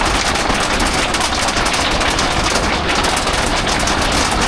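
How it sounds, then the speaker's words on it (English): Dense, relentless golf-ball-sized hail drums hard on a motorhome roof overhead, a loud continuous clatter of countless impacts with no pauses. "Some of the hail was pretty big."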